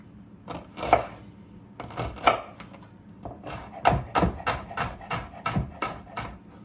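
A knife chops through butternut squash on a board, a series of sharp, close knocks spaced unevenly at first and then coming in quicker bursts, with faint low kitchen background between cuts.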